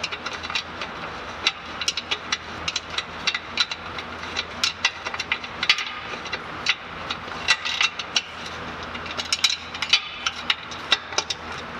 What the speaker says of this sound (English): I'm going to go through and tighten all the rest of these.